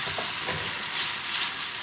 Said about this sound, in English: Give that a good sizzle just to get some of the moisture content out and get rid of the raw flavours.